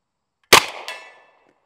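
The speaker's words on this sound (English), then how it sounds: "let me just shoot offhand again" A single loud, close shot from an M1 Thompson submachine gun fired offhand at a target on a range, a sharp crack followed by a short ringing decay and a faint echo, with no talk.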